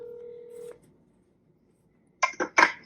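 A single held phone tone cuts off, then after a pause three short electronic keypad beeps sound close by.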